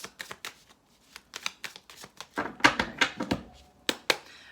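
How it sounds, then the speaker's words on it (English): Tarot cards are shuffled by hand at close range, giving a quick series of crisp riffling and tapping bursts with short pauses between them. "Give me 2 more shuffles."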